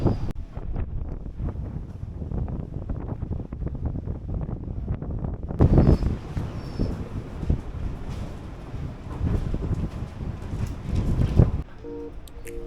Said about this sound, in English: the wind was blowing like hell every single day. You can hear.